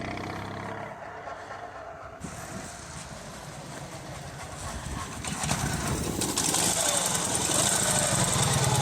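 A restored Dnipro MT-11 (KMZ) motorcycle engine runs and then pulls away, its rough mechanical drone swelling louder in the second half, with some background noise throughout.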